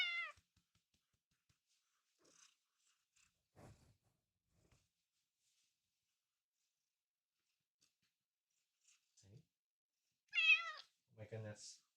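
A house cat meows loudly, with one cry at the start and two more near the end. The stretch between is mostly quiet, with a few faint small sounds.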